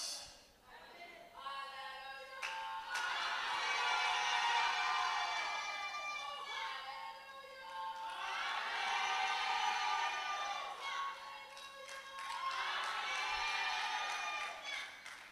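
A church congregation cheers, whoops and applauds in swelling waves that rise and fall over several seconds, loud and sustained, with a speaker's voice heard over the noise.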